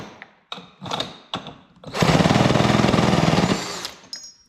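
A drill spins the stuck engine of a vintage Homelite Zip chainsaw, with a few short bursts followed by a sustained loud, rapid rattling churn lasting about two seconds, then spinning down.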